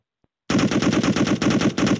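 Rapid automatic gunfire from a first-person shooter built in Unreal Engine 4 bursts in after a moment of silence and hammers on as a loud, continuous stream of shots with only short gaps.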